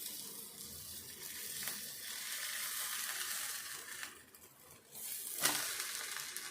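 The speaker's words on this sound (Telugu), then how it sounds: "ఈ విధంగా కాలితే ఉల్లిపాయ ఇట్లా ఫ్రై అయితే సరిపోద్ది." Sliced onions frying in oil in a pan for onion upma, a steady close sizzle with a couple of brief stirring scrapes, no voices.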